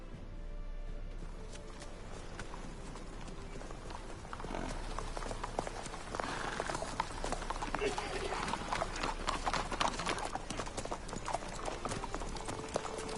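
Steady clip-clopping hooves of a horse at a trot in the video game The Witcher 3: Wild Hunt, with a constant background hum and soft ambient noise.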